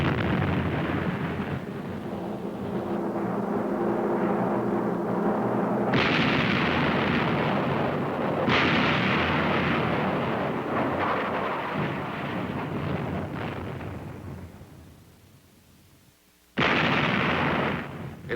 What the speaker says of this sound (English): It's when the guns are firing efficiently, like this, that you can be proud of your crew down below.